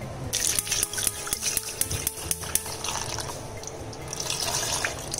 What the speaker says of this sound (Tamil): கொஞ்சம் தண்ணி சேர்த்துக்கிட்டேன்